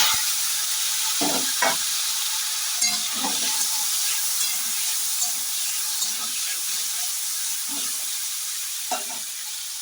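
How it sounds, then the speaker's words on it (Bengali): Paneer fries in oil in a wok, a steady bright sizzle broken by irregular spatula scrapes and knocks against the pan every second or so. "তেলের উপরে দেখবে পনির কিন্তু কড়ার গায়ে একটুও লাগবে না আর সুন্দরভাবে ভাজা হয়ে যাবে"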